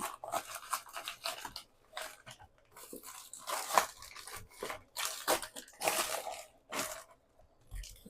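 A mail package of sports cards is torn open up close, with rough tearing, crinkling and crunching of packaging in irregular bursts and brief pauses between pulls.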